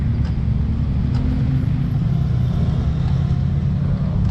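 A soil-hauling dump truck carrying fill dirt drives past with a steady, loud, low engine rumble that holds constant throughout.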